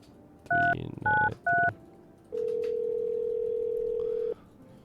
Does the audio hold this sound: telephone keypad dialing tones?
yes